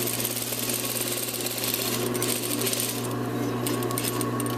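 Sewing machine stitching a shirt's front facing and hem, a fast steady mechanical whir with rapid needle clatter running continuously and close up.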